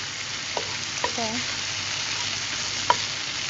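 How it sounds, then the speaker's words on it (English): Mushrooms fry in a pan for an Asian-style chicken sauce, giving a steady soft sizzle with a few brief scrapes and taps as they are stirred, close by and without talk. "So the mushrooms are frying well."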